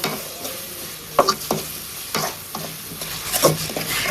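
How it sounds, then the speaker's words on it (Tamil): Tomatoes sautéing in a pan for a seafood feast, a steady sizzle under repeated scraping strokes of a spoon, with a few sharper clinks against the pan, close and alone. "தக்காளியை போட்டுட்டு நல்லா மைய வதங்கணும்."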